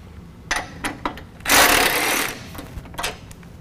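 A ratcheting socket wrench with an 18 millimeter socket works on the bumper bolts of a 2017 Ford F-250 Super Duty, with short clicking bursts followed by a longer, louder run of rapid ratchet clicks, close up.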